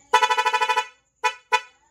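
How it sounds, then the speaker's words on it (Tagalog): A loud horn on a Honda XRM110 motorcycle, wired through an interrupter relay, blares in a rapid stuttering string of about eight pulses, then two separate short blasts, close and harsh. "Magla-loud horn tayo dito."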